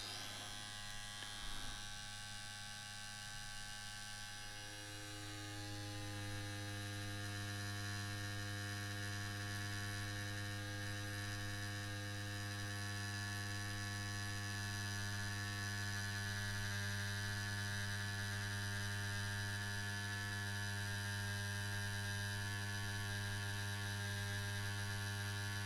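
A Bronc Tough wireless stroke-adjustable tattoo pen runs at 8 volts with a larger needle. After a brief start-up, its electric buzz holds a steady, even hum up close for the rest of the clip, with no talking.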